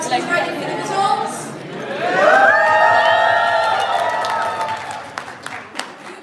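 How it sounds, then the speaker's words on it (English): A room full of people applauds and cheers at an officer election results announcement, the clapping and whoops building to a loud, steady burst that then tapers off into scattered claps. "You guys just going to applaud anything?"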